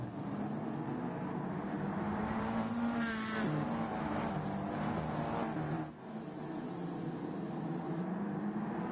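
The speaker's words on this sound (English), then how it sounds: "As we see Tony Stewart get by Ricky Rudd, these guys will need to go into the pits" Race cars in the rain on the Tsukuba Grand Prix circuit in Gran Turismo 7, a CASCAR Cup Series stock car race, roar continuously with steady engine drone and hissing spray, one car briefly passing close before the dense field noise resumes.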